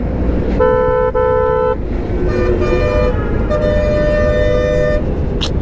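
Car horns honk repeatedly over a busy engine rumble, several tones overlapping in long and short blasts, close and loud amid congested traffic in Bangshal, Dhaka, heard from a motorcycle.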